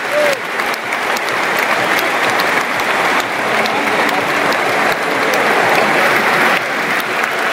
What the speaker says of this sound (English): Applause from all sections of the stadium.